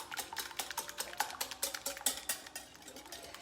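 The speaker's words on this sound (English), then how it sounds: "So just dump that in and whisk that around." Almond milk is whisked into an egg muffin mixture with sausage, spinach and cheese, giving a quick, steady run of light clicking strokes against a bowl, soft and close.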